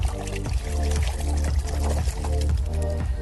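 Water pours steadily from a tap while painting tools are washed up, a continuous close splashing stream with a faint rhythmic gurgle running throughout.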